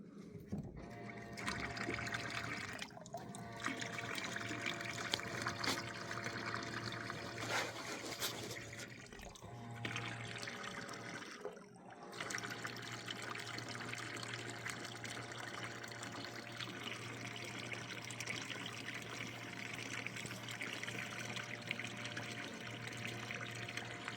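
Water trickling and splashing steadily from a boat's bilge pump outlet, a continuous close liquid flow with a low steady hum underneath, lasting throughout with brief dips.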